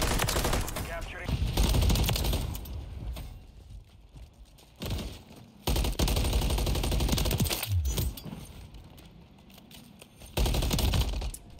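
Rapid video game gunfire in a ranked match crackles in repeated automatic bursts separated by short pauses, loud and close throughout.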